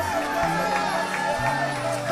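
A worship congregation at the Canaa Florida church cheers, shouts and claps as one crowd, a continuous noisy wash over low sustained instrumental notes.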